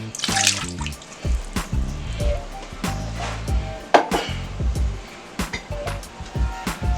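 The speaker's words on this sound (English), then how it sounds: "I'm gonna go ahead and add my water to it." Water poured into a Power Pressure Cooker XL coated with vegetable oil, giving a splashing, gurgling pour in bursts under a steady bed of background music.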